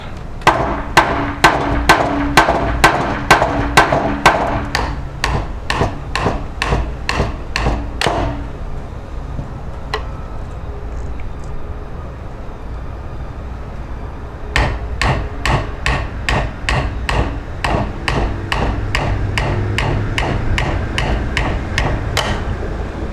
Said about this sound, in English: Knock it this way a little bit. Our mallet.